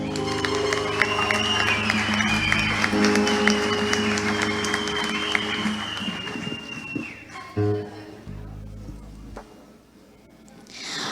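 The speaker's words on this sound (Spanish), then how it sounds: "con vuestro fuerte aplauso, nos recibir en el escenario participante número 1, Sofía Campo" An audience applauds a young participant taking the stage at a Christmas song festival for kids and teens, with clapping and cheering mixed with tonal sounds. It thins out and drops away toward the end.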